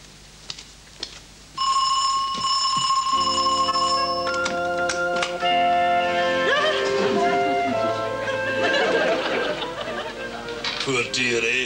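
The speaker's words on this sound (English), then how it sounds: "I bet you're wondering how she managed to press the doorbell, Jimmy." A doorbell rings in a BBC comedy Christmas special as guests arrive at a party: a sustained bright ringing chime that starts suddenly after a near-silent opening and goes on for several seconds, mixed with music-like tones and background chatter.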